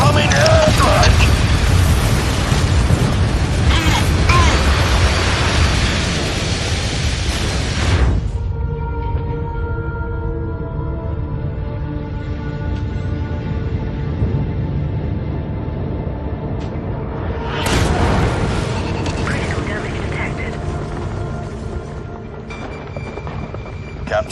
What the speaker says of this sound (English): Incoming airstrike!